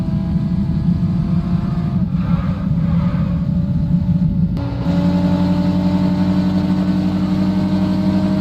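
A BMW X6 in the mobile driving game Car Parking Multiplayer, with a damaged engine, drones steadily and loudly as it drives, its tone shifting around the five-second mark, with no talk.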